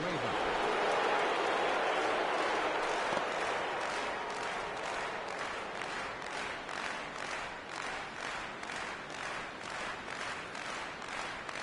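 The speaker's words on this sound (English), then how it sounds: "with the crowd still buzzing over the grand slam" A baseball stadium crowd, Cubs at Cardinals, roars and buzzes after a grand slam, a loud continuous wash of cheering and applause that slowly settles to a steady hum while a commentator talks over it.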